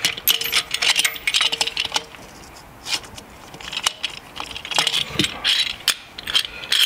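A ratchet wrench clicks in quick bursts while working on a Citroën C5 during a check-up and oil change, with loud, close mechanical ratcheting, brief pauses, and no talk.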